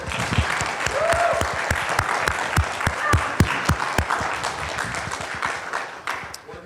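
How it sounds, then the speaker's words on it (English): An audience at a technical conference talk on a deep learning framework for Racket claps in a sustained round of applause with crisp individual hand claps, tapering off toward the end. "I really want everybody to give a round of applause for Dan Friedman."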